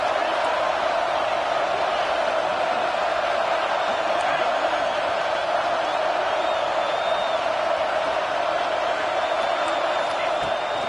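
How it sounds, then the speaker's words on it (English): A packed football stadium crowd roars continuously as the home fans try to help their defense, a dense, loud wall of cheering and yelling that holds steady throughout. "Listen to this crowd just shaking the girders of this place, trying to help their defense."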